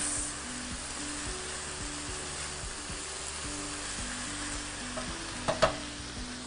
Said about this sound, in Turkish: Etim de karıştırmam lazım. Zaten güzel güzel şu anda pişiyor.